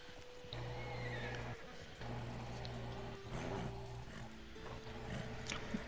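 A horse neighs and whinnies close by in a stable or yard, with a long sustained call in the middle and shuffling clip-clop hooves and movement around it.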